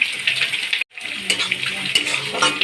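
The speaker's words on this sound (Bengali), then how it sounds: "এই যে কড়াতে তেজপাতা তুলে দিলাম কুচিয়ে রাখা পেঁয়াজ কুচি তুলে দিলাম" Bay leaves and chopped onion sizzle in a hot wok, a loud continuous crackling hiss cut by a brief silent gap before the frying resumes just as strongly.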